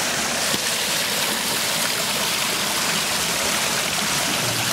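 A public water fountain splashes in a loud, dense, unbroken rush and spatter, close by, holding steady from start to finish with no talking over it.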